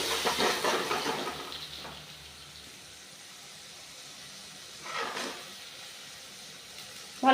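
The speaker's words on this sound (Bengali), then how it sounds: "এবার আমি মশলাটা ছেড়ে দেবো। ভালো করে কষিয়ে নেব মশলাটা।" Spices frying in a pan for a vegetarian soybean and potato curry, a close sizzling hiss that is strongest at the start, dies down, then flares briefly again.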